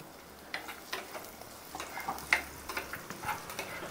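Onions frying in a pan in a home kitchen, a steady soft sizzle with faint crackles and small spatters and the odd stir, close by and fairly quiet, no talking.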